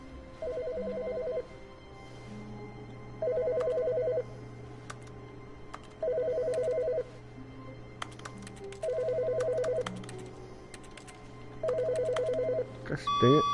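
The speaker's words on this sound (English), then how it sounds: "oh, which phone's ringing?" A telephone rings in five evenly spaced electronic bursts, each about a second long and separated by pauses, clear and fairly close over a faint steady background hum. A short burst of other noise comes at the very end.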